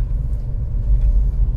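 A stock BMW 1M with the twin-turbo N54 engine and manual gearbox launches hard from a standstill, producing a loud, deep, rumbling engine roar heard from inside the car in one short continuous burst.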